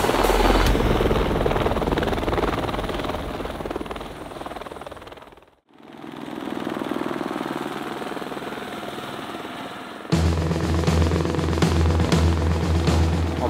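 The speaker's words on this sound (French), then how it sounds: "On va faire une simulation avec un hélicoptère pour élinguer une machine de façon sécuritaire." A helicopter's rotor and engine roar during a rescue simulation near Squamish, BC, slinging a snowmobile out of the mountains. The steady drone fades briefly to near silence, returns, then jumps abruptly to a louder, closer thumping.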